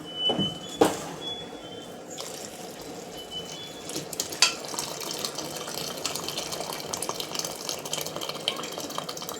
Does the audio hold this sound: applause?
no